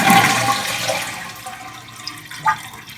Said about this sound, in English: This is draining all the water out of the tank.